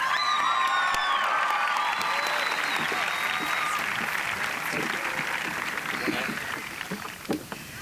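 Audience applause at a high school graduation ceremony, broad and continuous clapping from a large crowd, steady throughout and thinning slightly near the end.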